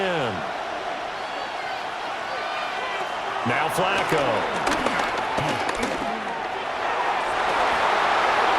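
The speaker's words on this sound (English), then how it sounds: "Crowd getting in it a bit already." Stadium crowd noise from a simulated Bengals vs. Steelers NFL game in Madden NFL 26, a steady roar with swelling cheers running under continuous play-by-play commentary.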